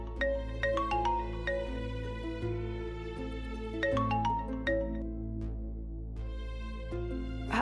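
A mobile phone ringtone plays a repeating melodic chime over steady soft background music, with no voices in the room.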